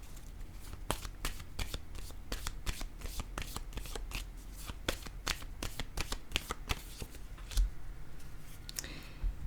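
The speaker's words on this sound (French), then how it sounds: "Je vais déposer une autre carte ici." Playing cards are shuffled and laid out for a tarot-style reading, a long run of rapid, crisp, close riffling clicks that keeps up steadily before a card is set down.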